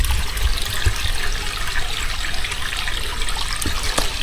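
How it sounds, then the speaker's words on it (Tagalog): Water pours steadily from a small dam in the middle of a mountain, a continuous rushing, splashing wash that stays loud and even throughout with no pauses. "Naagos yung tubig."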